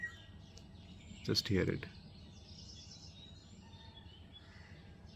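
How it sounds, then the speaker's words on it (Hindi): Faint, scattered birdsong and chirps outdoors in a natural holiday setting, light calls drifting at a distance, with a short bit of close speech partway through. "पर यहाँ इस तरह नेचर में बैठ के चिड़ियों की आवाज़ें"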